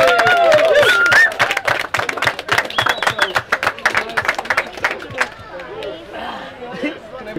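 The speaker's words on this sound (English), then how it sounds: "Let's hear a round of applause for 5 rounds." Spectators at a chilli eating competition clap and chatter, a loud burst of applause fading into scattered claps and talk among the crowd.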